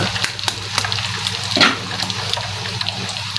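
Eggs frying in a pan with toasted garlic for Filipino garlic fried rice, a steady close sizzle with clattering utensil taps and a brief louder burst as the eggs hit the hot oil.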